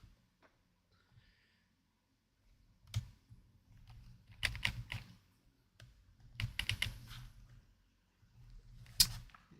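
Clicky bursts of typing on a computer keyboard, close up, coming in short irregular runs separated by pauses, with no talking.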